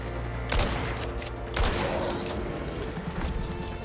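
Gunfire from the survival video game ICARUS as a player shoots at a polar bear. Two sharp, loud shot bursts stand out over a continuous rumbling game ambience.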